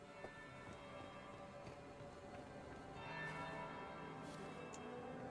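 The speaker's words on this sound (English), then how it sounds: "That's the bell." Bell ringing in the video game Dragon Age: Inquisition, heard in a winter palace setting: faint, distant chimes tolling a few times beneath a dense, steady ambient hum.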